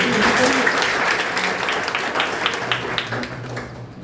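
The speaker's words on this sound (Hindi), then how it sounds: "तालियां बजाओ उसके लिए।" A room full of students at a higher secondary school in Indore applauds steadily, a dense patter of clapping that holds, then gently fades toward the end, with faint voices mixed in.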